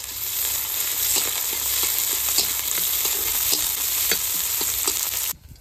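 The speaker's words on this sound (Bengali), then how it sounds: "গরম তেলের মধ্যে দিয়ে দেবো একটা শুকনো লঙ্কা, 4-5টা কাঁচা লঙ্কা চেরা, এরপর দিয়ে দেবো কুচানো পেঁয়াজ" Dry red chilli, slit green chillies and chopped onion sizzle steadily in hot oil, with occasional stirring clicks over the continuous frying hiss, which cuts off abruptly at the end.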